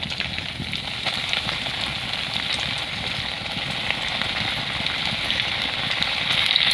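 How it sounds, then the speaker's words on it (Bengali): Banana flower chops made with potato and semolina fry in warm oil, a dense, even crackling sizzle that holds steady and grows slightly louder toward the end. "তো এবারে এগুলোকে আমি একটা একটা করে ভেজে নেব"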